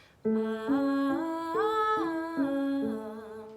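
A single voice sings a rising and falling arpeggio up to the octave and back down, clear, close and unaccompanied, each note held briefly.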